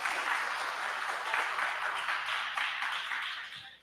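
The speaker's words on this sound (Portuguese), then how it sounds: "salva de palmas para o professor" An audience gives a round of applause for a professor at an academic event, a steady, evenly sustained patter of many hands clapping that holds level before trailing off at the very end.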